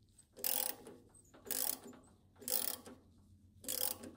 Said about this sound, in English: There are hexagonal dies intended for cutting new threads as well.